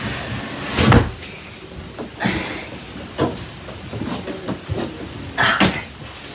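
A wooden dresser drawer slides open and shut in a bedroom while clothes are sorted into it, giving several scraping, thudding bursts of moderate loudness spread across a few seconds.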